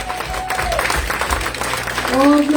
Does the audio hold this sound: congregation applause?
yes